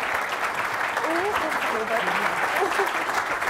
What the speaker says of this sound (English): Ladies and gentlemen, a round of applause for the captains of the Women's Six Nations.